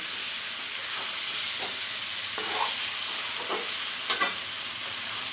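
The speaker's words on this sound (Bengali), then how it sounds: "মশলা দিয়ে বেশ কিছুক্ষণ আমি কষে নেবো" Spices stir-fried in a pan for a shrimp and grass pea lentil dish with potato and papaya, a continuous close sizzle broken by several sharp scrapes and clatters of the spatula, no talking.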